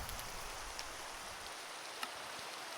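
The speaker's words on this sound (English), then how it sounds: "And it's raining." Steady rain hisses in the video game Feed The Beast Skies 2, a continuous soft wash of drops with a few faint ticks, alone and without talk.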